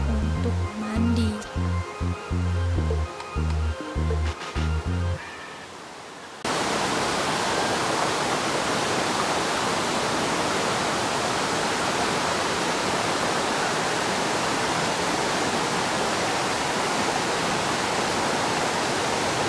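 A steady, loud roar of the Bidadari waterfall on Mount Tambora, Indonesia, fills the scene, following a few seconds of rhythmic music at the start.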